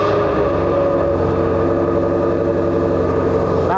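Ford Mustang GT350R with its exhaust open, a steady, loud engine note holding at a sustained rev with a rich, buzzing rumble and no voices.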